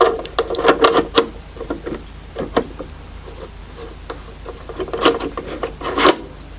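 A blade set in a guide is honed in a home workshop, producing short, close rasping strokes in clusters with brief pauses between them.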